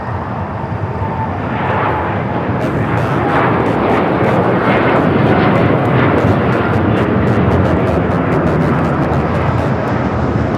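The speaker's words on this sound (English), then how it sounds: "American Airlines Flight 7 Papa taking off to Brisbane on the 787-9 Dreamliner." An American Airlines Boeing 787-9 Dreamliner takes off from LAX bound for Brisbane. Its jet engines give a loud, sustained roar that swells and stays powerful, with crackling rumble, heard alone without speech.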